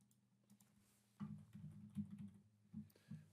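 Keystrokes on a computer keyboard typing a short string into software, a quiet scattered patter that grows into a denser burst of clicks, then a few separate taps.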